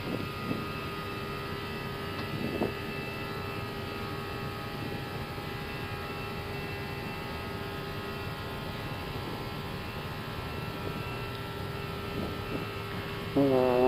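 Airbus airliner engines spooling up to takeoff thrust on runway 05 at Split, heard from the cockpit as a steady broadband roar and hum with brief cockpit clicks, continuous throughout.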